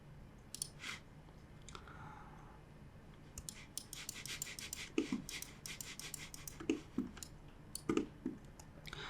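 Computer mouse clicks arrive in scattered quick bursts, close and fairly faint, mixed with light scratchy rubbing noises over a quiet room background.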